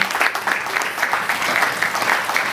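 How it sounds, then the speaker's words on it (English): A crowd at an athletic club awards night in Burnley keeps applauding, an even, continuous roar of clapping hands close by with no pause. "Come on, give my round of applause again."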